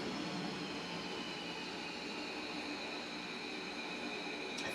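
An F-15D Eagle jet taxis in a flight simulator with a steady, droning engine roar that holds at a constant level all the way through, and no voices.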